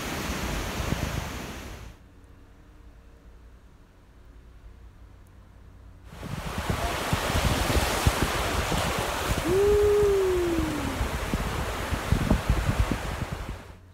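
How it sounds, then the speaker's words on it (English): Ocean waves break on the beach at Torrey Pines: a steady, broad wash of surf that drops to a quieter lull partway through before the rolling roar returns, with a brief tonal cry over it near the end. "listen to the waves."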